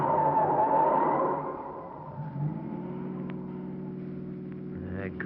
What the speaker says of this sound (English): That car's been tailing us for the last 5 minutes.